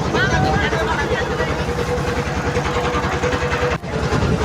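A boat engine drones steadily while crossing the Jamuna river near the bridge, a continuous close rumble with a faint voice in the background.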